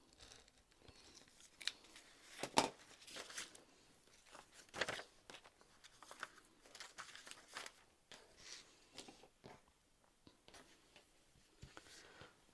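Scissors snip through fabric while a Noodlehead Patterns Large Plover Pouch is cut out, giving quiet, close, irregular crunching cuts in short runs with pauses between, and no talking.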